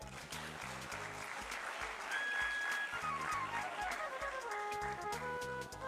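An audience at the opening of the Sindh Theater Festival in Hyderabad claps continuously, a dense, sustained wash of applause from a crowd, with music playing faintly underneath.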